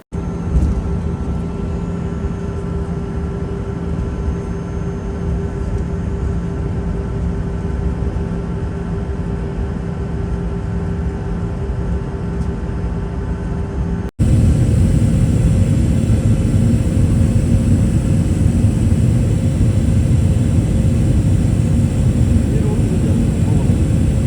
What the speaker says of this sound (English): As the plane took off